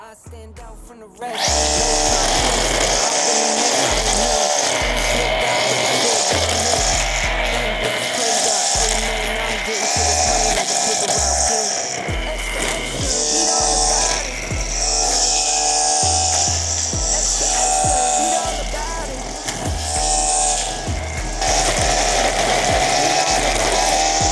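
A REVOLT BBC 40/2 BL cordless string trimmer cuts grass with a high whining buzz that surges and dips as it swings through the growth, loud and close, sustained for most of the stretch.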